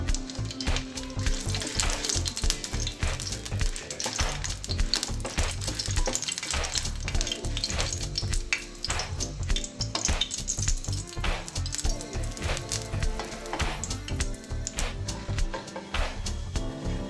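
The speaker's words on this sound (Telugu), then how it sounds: "ఆయిల్ వేడిన తర్వాత ఎండుమిర్చిని ఫ్రై చేసుకోవాలి." Dried red chillies frying in hot oil in a pan on a stove, a steady dense sizzle and crackle with occasional stirring clinks of utensil on metal, close and continuous throughout.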